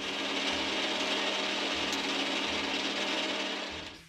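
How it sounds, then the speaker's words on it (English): A metal lathe takes a skim pass along a steel bar to turn it down for threading. A steady, close mechanical whir with a faint rhythmic rattle runs throughout, then fades at the end, with no talking. "Now I can take a skim pass off the bar, and whittle down the area for a thread"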